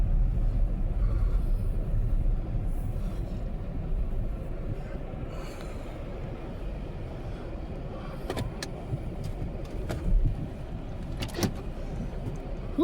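An all-wheel drive car drives through a blizzard, its steady low road rumble and tire roar continuous and close throughout, with a few brief sharper clicks near the end.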